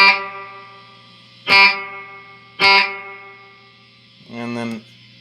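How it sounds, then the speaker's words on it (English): Electric guitar through a Rockman headphone amp with echo on and chorus off: loud strummed chords struck three times, each ringing and decaying, then a softer, wavering repeat trails after. "the chorus off, you have the echo."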